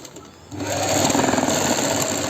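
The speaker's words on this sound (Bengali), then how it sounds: "ডবল সেলাই দিয়ে দিলাম যাতে কিছু অসুবিধে না হয়" A sewing machine stitching a baby lehenga starts after a brief pause and runs in a fast, loud, close whirring rhythm to the end.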